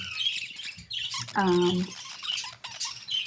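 Soft chattering chirps and warbles from budgies, with one clearer squawky call in the middle, close by.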